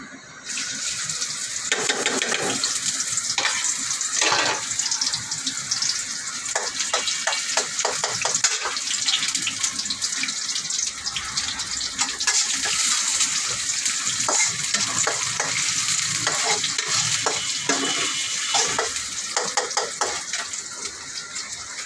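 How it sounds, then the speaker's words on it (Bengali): Chopped onions frying in hot oil make a loud, continuous sizzle for over twenty seconds, up close, with scattered clattering taps from stirring and no talking. "তেল দিলাম, তেলটা কিছুক্ষণ গরম হোক। পেঁয়াজ কাটা দিয়ে দিচ্ছি।"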